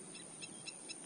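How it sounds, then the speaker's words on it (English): A bird call recording plays from a phone, four short, high, evenly spaced calls at a steady rhythm, faint over a constant background hiss. "if I want to reference a recording from my phone of a bird, I can just pop in an earbud"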